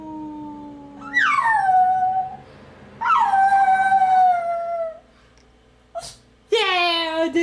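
A dog howls in three drawn-out rising and falling calls, loud and close, with a short yip between them and a person speaking between the howls.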